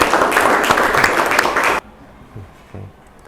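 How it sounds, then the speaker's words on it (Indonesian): A classroom of students claps for a classmate during a physics lesson: dense, fairly loud applause that stops abruptly, followed by a few faint stray sounds in a quiet room. "Oke, tepuk tangan untuk Sahih lagi"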